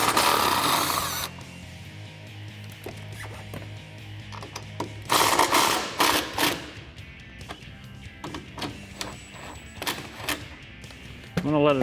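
Nuts on a Dodge Challenger strut brace being loosened with an impact or ratchet tool: several short mechanical bursts and clicks spread across the stretch, with quieter handling noise in between.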